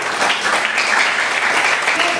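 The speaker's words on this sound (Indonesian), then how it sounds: "Tepuk tangan sekali lagi buat Tuhan kita. Tepuk tangan yang terbaik." Church congregation at a Sunday service applauding in unison, a full, even roar of many hands clapping close and loud, with a voice faintly present beneath it.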